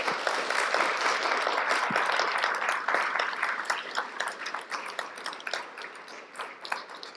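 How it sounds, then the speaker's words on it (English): An audience claps steadily in a hall, a dense patter of many hands that thins out and grows sparser toward the end. "I think those 4 answers deserve a round of applause."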